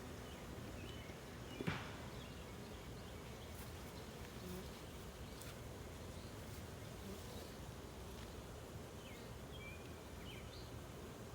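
Honey bees buzz softly around an open foundationless hive during an inspection, a faint continuous drone of insects with a brief light knock near the start and no talk.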